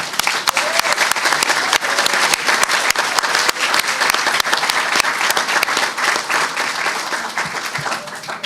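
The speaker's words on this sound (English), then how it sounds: "let's a round of applause for everybody" A crowd claps loudly and continuously at Louisiana Governor John Bel Edwards's signing of criminal justice reform legislation, with dense, sharp, even hand claps sustained throughout.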